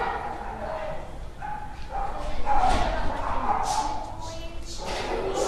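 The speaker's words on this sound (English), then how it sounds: "we have over 110 dogs here" Dogs at an animal shelter housing over 110 dogs, with bow-wow barks and yips rising and falling across a busy kennel, heard under steady talk from people nearby.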